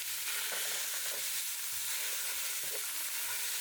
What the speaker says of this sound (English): In a hot non-stick skillet on medium-high, I'm adding this ground pork.